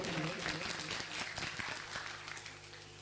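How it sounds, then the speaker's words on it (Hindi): Applause rises from an audience at a speaking and anchoring competition event, quiet and somewhat distant, with a sustained background hum beneath the clapping. "एक बार जोरदार तालियां इनके लिए।"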